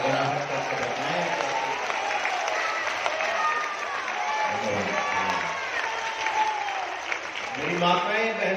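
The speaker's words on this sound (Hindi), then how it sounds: "जरा दोनों हाथ आसमान में उठाकर तालियों की गड़गड़ाहट करके बताएं।" Audience applause at a kavi sammelan, a Hindi poetry gathering, a sustained broad wash of many hands clapping through the whole stretch, with crowd murmur and talk mixed in.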